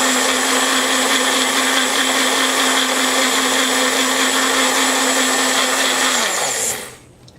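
A blender purees banana and strawberry into baby food, a loud steady whirring motor hum that runs evenly, then spins down and cuts off near the end.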